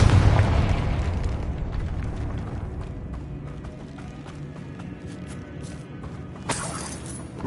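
A Confringo blasting spell goes off in a video game, a loud burst that fades into a long rumbling, crackling tail, with a sharp bright crack returning near the end.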